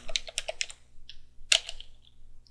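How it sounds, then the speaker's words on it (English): Keys clatter on a computer keyboard as a short command is typed, a quick run of sharp clicks, then a pause and a few more keystrokes, close and clear. "Now let's type in ulimit"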